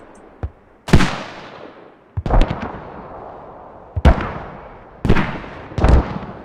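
Mortar shells exploding in the video game Squad, a series of about five heavy booming impacts with long decaying rumbles, spaced a second or so apart, loud and fairly close.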